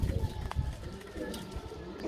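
A golden pigeon coos in soft repeated low notes, mixed with background noise and faint voices.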